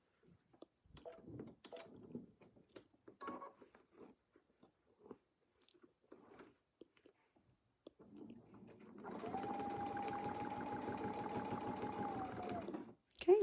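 A sewing machine stitches steadily for about four seconds along a ruler channel, tracing a 5-inch circle with a Westalee template, with an even close mechanical hum and needle rattle following scattered handling sounds and a voice.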